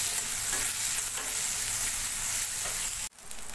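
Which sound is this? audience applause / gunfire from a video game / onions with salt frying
onions with salt frying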